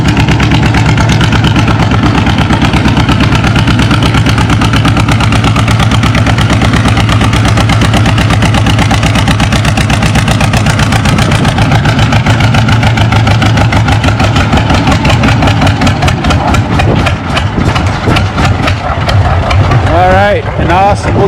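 John Deere D tractor engine pulling at a tractor pull, a loud, low, chugging engine rumble with a steady rhythmic beat that quickens and breaks up near the end, outdoors with crowd noise around it.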